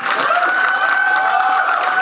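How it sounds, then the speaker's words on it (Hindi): Sustained audience applause with some cheering for the Shaitaan team at a movie trailer launch event, dense and steady throughout, with a sharp tonal whistle-like line running over the crowd noise. "एक बार जोरदार तालियां शैतान और इस टीम के लिए लेडीज एंड जेंटलमैन"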